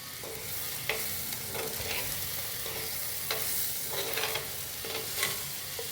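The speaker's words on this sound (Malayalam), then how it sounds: "കറിവേപ്പില ഇട്ട് കൊടുത്തതിന് ശേഷം നമുക്ക് നന്നായിട്ട് ഇളക്കി യോജിപ്പിക്കാം" Curry leaves are stirred into pigeon pea thoran frying in a pan, a continuous soft sizzle with repeated scraping stirs at an uneven rhythm, no voices.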